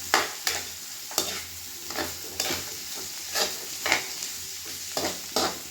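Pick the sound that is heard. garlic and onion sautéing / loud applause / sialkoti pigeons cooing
garlic and onion sautéing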